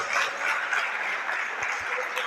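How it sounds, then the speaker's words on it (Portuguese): Audience at a couples' talk applauding the wives, a continuous dense crackle of many hands clapping at moderate loudness, steady for the whole stretch with no talk over it. "aplaude a mulher, aplaude as esposas"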